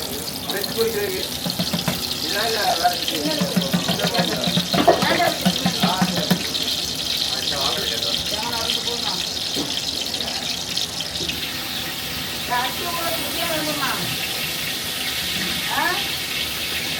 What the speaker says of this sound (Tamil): இப்போ ஒரு தண்ணி ஊற்ற